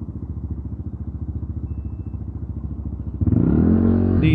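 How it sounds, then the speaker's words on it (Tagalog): A Kymco KRV scooter's exhaust putters in a parking area, a steady rapid low pulse at idle that jumps into a louder, fuller rev for the last second, with no voices. "Solid dito ang tunog ng ating tambutso sa parking area."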